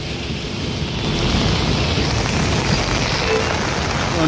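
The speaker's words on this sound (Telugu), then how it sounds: "ఈ ఏరియాలో వర్షం మాత్రం చాలా భారీ ఎత్తున ఉంది" Heavy rain pours steadily in Secunderabad, Hyderabad, in a dense, unbroken hiss, loud and close, with no voices.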